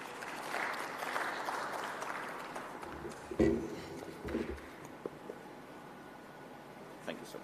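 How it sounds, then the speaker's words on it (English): Audience at a youth ICT conference in Tanzania clapping, a dense burst of applause that fades into scattered claps, with a few louder thumps and some talk. "A huge round of applause for him."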